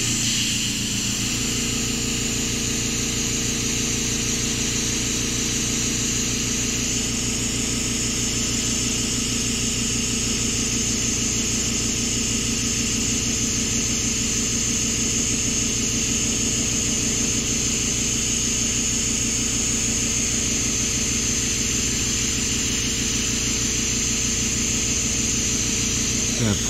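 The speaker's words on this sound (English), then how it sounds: "Pardon the noise in the background, it's just an airbrush pump on its thing." An airbrush compressor pump drones loud and continuous, a steady mechanical hum with a high whine on top that holds for nearly half a minute without a break.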